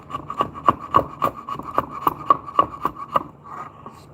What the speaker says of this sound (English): We're going to use a couple of chisels because that'll be easy, especially with this type of wood that we got right here